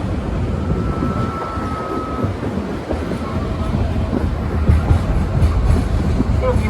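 A train on a Colorado mountain railway rumbles and rattles steadily with a low, continuous roar of wheels on track, heard close from inside the car with no one talking.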